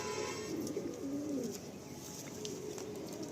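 Pigeons in a loft coo in low, soft murmurs over a steady rustling background, with restless fluttering implied as birds press to get out toward the gallery; continuous and moderately near, no voices.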